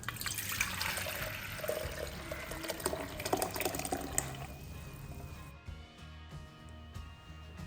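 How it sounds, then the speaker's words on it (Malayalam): Water pours and splashes steadily into a pressure cooker for several seconds, then cuts off, leaving quieter background hum. "ബാക്കി വെള്ളമൊക്കെ അളന്ന് കറക്റ്റ് ആക്കിയിട്ടാണ് ഇനി കുക്കറിലേക്ക് ഒഴിച്ചു കൊടുക്കുന്നത്"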